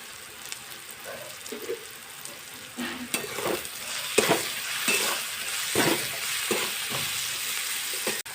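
Onions fry in a pan with a continuous sizzle that grows louder midway. Repeated scraping and clanking from stirring accompanies them.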